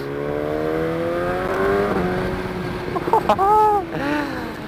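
A BMW S1000R 2020 motorcycle accelerating hard, its rising whine sweeping up through the gears with quick shifts near the end, heard close under steady wind rush.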